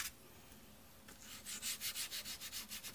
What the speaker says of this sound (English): rub it on nice and easy until you load up the Scrubby